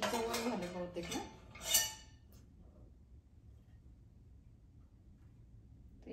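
A metal pan clinks and clatters as it is set into an adjustable kitchen rack, a brief cluster of bright metallic knocks over the first two seconds, then near silence.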